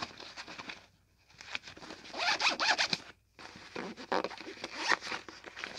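A gaming backpack's zippers are pulled open in several quick rasping runs, close and loud. Brief silent gaps separate the longer zipping bursts.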